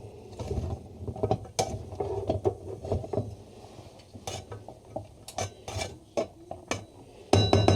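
A spoon stirs fish yassa with carrots in a cooking pot, giving repeated scraping, rasping and clinking strokes against the metal in an irregular rhythm, close and fairly quiet, with no talking.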